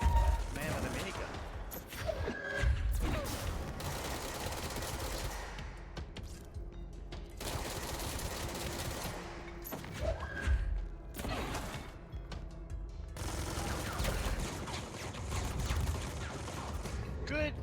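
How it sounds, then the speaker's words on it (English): Enemy minigun in the game Control firing in rapid sustained bursts, loud and dense with pauses between volleys, mixed with thuds and clattering combat noise. "Man with a minigun."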